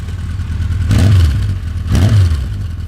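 A 1983 Honda CB1000C motorcycle with a 1000cc superbike engine revs its exhaust twice in quick succession, loud and close, each rise from idle to a strong throaty roar and back.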